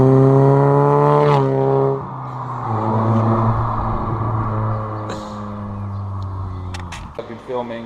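A K20-engined Peugeot 205 drives past outdoors, its engine note strong and harmonic as it approaches, then dropping in pitch and fading as it pulls away.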